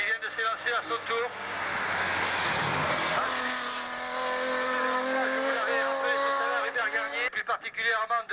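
An Alfa Romeo GTV6 race car launches at a hill climb, engine revving hard and rising through gears with tire squeal as it pulls away, close and loud, with a commentator talking over it.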